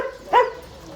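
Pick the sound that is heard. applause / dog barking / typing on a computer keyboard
dog barking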